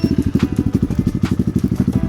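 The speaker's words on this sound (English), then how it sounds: "let me actually start the bike so you can see it" Lifan KP Mini 300 motorcycle with a 4-valve ZS175FMN single-cylinder engine running close by, a steady rapid low thumping pulse with no voices.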